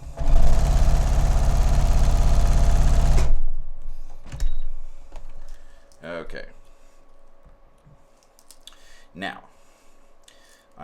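A sewing machine stitches a black polygon quilt block, a loud, steady rapid whir running for about three seconds before stopping abruptly, followed by quieter handling clicks and rustles.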